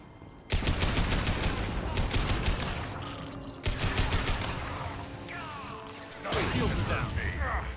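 Gunfire in the video game Mass Effect: sustained bursts of rapid automatic shots and crashing impacts, loud and close, in three heavy volleys separated by brief lulls.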